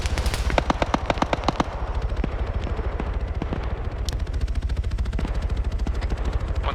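Heavy sustained automatic gunfire in a military video game, dense rapid bursts rattling nonstop with sharper cracks on top and a low rumble beneath, loud and close, no talk.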